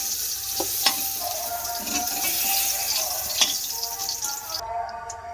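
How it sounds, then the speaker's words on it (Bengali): Pointed gourd (potol) frying in hot oil in a wok: a close, fairly loud, continuous sizzle and crackle with occasional stirring scrapes, cutting off just before the end. "দেখুন পটলটাও বেশ ভাজা হয়ে গেছে, লাল লাল করে ভেজে নিয়েছি।"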